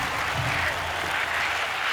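Video game crowd at an NHL 26 hockey match, a steady roar of cheering and applause filling the arena evenly throughout, loud and continuous with no clear voices standing out.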